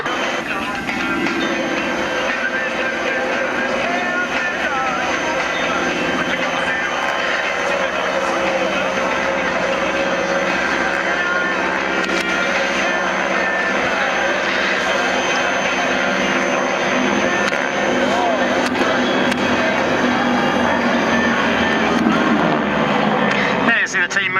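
Engines of military display aircraft flying in formation at an airshow drone steadily throughout, a continuous rumbling roar with voices talking over it.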